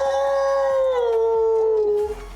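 A man imitates a wolf howl, a single loud, sustained wavering cry that slowly falls in pitch over about two seconds before breaking off abruptly, heard alone and close.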